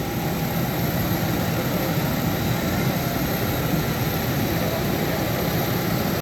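Steady, loud engine drone inside the cabin of a Wizz Air airplane, a continuous broadband roar with no breaks and no voices.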